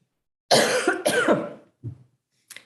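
A person coughs in two harsh bursts close by during a county services committee meeting, followed by a short throat-clearing sound and a faint final cough.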